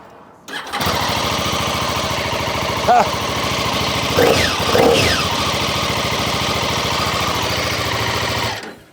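A Brough Superior motorcycle in burgundy candy apple paint starts up close by and settles into a steady, loud idle that runs unbroken for several seconds, with a few brief rises in the engine note.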